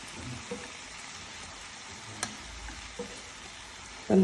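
Soaked basmati rice stirred and roasted with tomato in a pan over a gas flame, giving a steady soft sizzle with a few faint scraping stirs and a louder clatter at the end.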